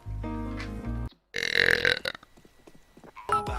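A streamer lets out a long, deep, croaking belch into a close microphone, then a louder, rougher burst of burping after a short gap, and a final brief belch near the end.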